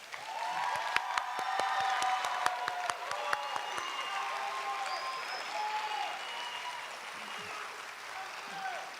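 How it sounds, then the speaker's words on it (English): Applause from the audience at a Southwest Schools high school commencement for the graduating class of 2022, with dense clapping and a few sharp claps standing out, scattered cheers and whistles, and crowd murmur filling the hall throughout. "Another applause for our class of 22."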